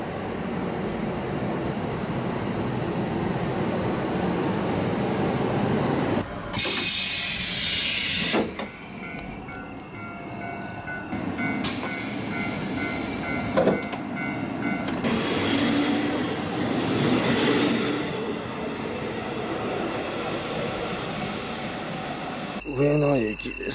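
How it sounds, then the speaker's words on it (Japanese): A local train pulls into Minami-Chitose station in Hokkaido, a continuous rumble and airy hiss with abrupt shifts and louder bursts of brake or air noise, heard from nearby. "列車は新千歳空港を出て南千歳に到着。"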